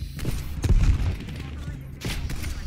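Loud, close gunfire in the video game Call of Duty Cold War, a dense burst of rapid shots with booming low end, mixed with game sounds and a voice speaking.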